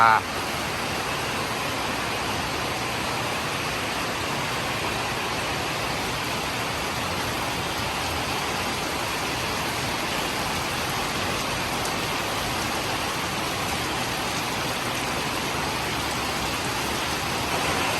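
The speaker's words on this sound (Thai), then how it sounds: "ฝนกระทบกับหลังคา" Steady, dense rain drumming on a roof, a continuous even hiss with fine patter throughout, loud and close with no letup.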